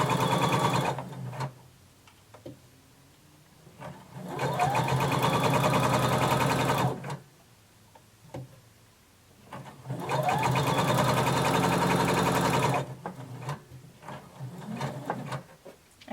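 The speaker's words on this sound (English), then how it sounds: "And then sew using a 1/2 inch seam allowance." Domestic sewing machine stitching a seam through lining and fabric, running in two long steady bursts with short quieter pauses and small handling clicks between them, close and fairly loud.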